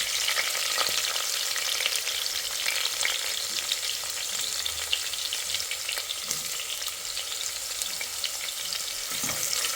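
Chopped onions fry with green chillies and curry leaves in oil for a radish sambar, making a strong, steady sizzle with crackles and intermittent stirring scrapes. No one speaks.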